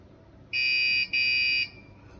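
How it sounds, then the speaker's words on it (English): Homing sensor on a Phrozen Sonic Mini 8K S resin 3D printer beeping: two close, steady high-pitched electronic tones, one about half a second and a slightly longer second after a short gap, clear and alone over quiet room hum. "the beeping sound from the homing sensor is very different."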